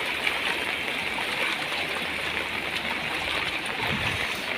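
Floodwater overflowing its banks in flooded streets of Malappuram, with vehicles standing submerged, gives a steady, continuous rushing wash that stays even and moderately loud throughout, with no speech.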